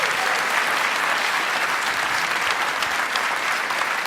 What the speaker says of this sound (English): Round of applause for Frankie.